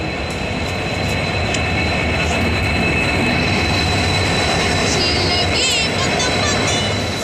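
A train rumbles steadily past on the railway, loud and continuous with metallic wheel squeal and clatter throughout, and faint voices sound underneath.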